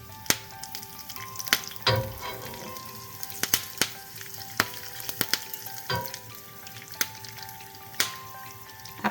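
A vaghar tempering for vada pav sizzles in hot oil with a continuous crackle, punctuated by sharp pops and spatters.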